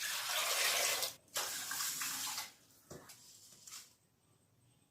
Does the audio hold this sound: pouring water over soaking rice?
yes